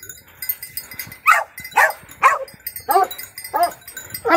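A two-year-old Norwegian elkhound on a farm beside a freshly killed wild boar, giving a series of six short, loud barks or yelps spaced at a steady rhythm, close to the listener, over a quiet background.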